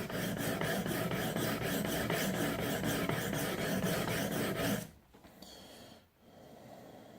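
A knife is worked on a whetstone with the hand held close to the stone, giving a steady run of rhythmic scraping strokes, close and loud, that stops abruptly partway through, leaving quiet room sound.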